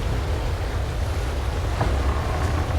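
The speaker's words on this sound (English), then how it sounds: "Man, the waves." Ocean waves in the naval sailing game Naval Action make a steady rushing wash of surf and wind, close and unbroken, with no voices.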